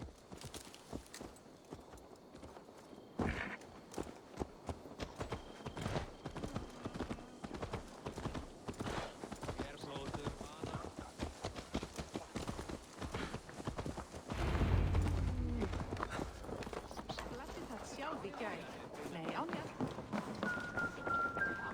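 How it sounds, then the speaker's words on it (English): Horse hooves clip-clop steadily in Assassin's Creed Valhalla, a continuous run of hoofbeats under game music and ambience, with a brief heavier burst partway through. "Let's return the horse."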